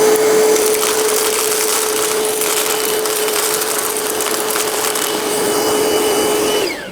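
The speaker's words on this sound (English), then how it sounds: "let's see how it picks up all these little miscellaneous screws." A Milwaukee M18 cordless wet/dry vacuum runs loud and steady with a constant motor whine, while small loose screws rattle and clatter up the hose throughout, until the motor cuts off right at the end.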